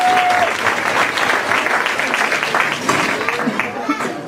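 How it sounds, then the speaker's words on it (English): Steady crowd applause at an outdoor 5K race and youth fun run event in Olmsted Falls, dense and sustained for several seconds with a faint voice or whistle near the start. "I think that deserves some applause"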